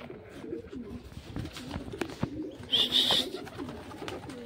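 Pigeons in a loft cooing at close range, soft low burbling calls repeating, with a brief higher chirp and light rustling.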